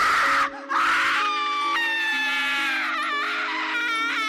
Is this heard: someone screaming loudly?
yes